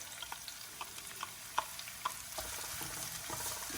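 Green chilies, chopped red onion and garlic sauté in olive oil for a Jamaican Ital stew, giving a steady close sizzle with scattered clicks and scrapes of stirring throughout, no voices.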